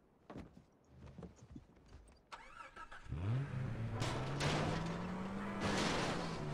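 A car engine in Far Cry 3 starting after some clicks and a door, cranking briefly then catching into a steady rising idle and revving, close and loud.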